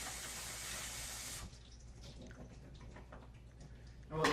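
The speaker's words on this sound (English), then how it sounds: "And we'll take them over here to the sink." Tap water runs into a kitchen sink over habanero peppers in a colander, a steady hissing gush that cuts off, leaving soft dripping and handling sounds before a final brief splash.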